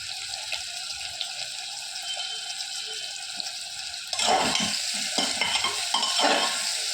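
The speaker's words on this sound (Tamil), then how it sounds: "தக்காளி நல்லா வதங்கிருச்சு" Tomatoes and rice with mushrooms frying in a pan, a steady sizzle that swells sharply partway through as stirring starts, with scraping strokes close by and no talk.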